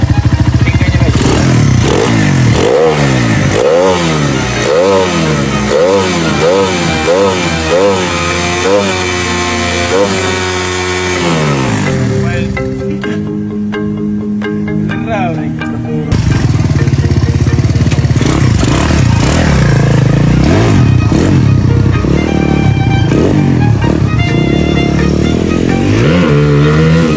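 A Euro 150 motorcycle engine idles and revs hard in repeated rising bursts, loud and close, dipping briefly to a rough idle before a steady high-rpm roar returns; no talk.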